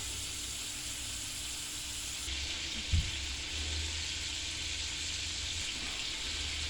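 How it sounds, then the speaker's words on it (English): Inside-out cheddar cheeseburger patties frying in a pan, giving a faint, steady sizzle throughout with one soft knock just before the midpoint. "we just let them fry until they get done"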